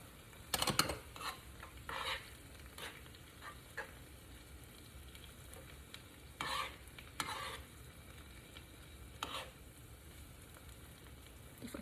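Shrimp and vegetables frying in a pan, with quiet steady sizzling broken by several louder bursts of stirring and scraping of utensils against the pan; no talking.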